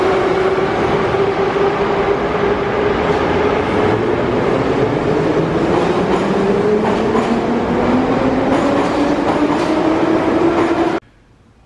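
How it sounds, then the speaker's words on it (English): An old Soviet-era Moscow metro train gives a loud, steady roar with rumbling wheels and a rising electric motor whine. Faint rhythmic clatter runs through the sound as it keeps going, then it cuts off sharply near the end. "It's really cool because these are like the old Soviet trains."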